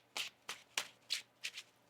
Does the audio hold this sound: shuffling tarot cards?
yes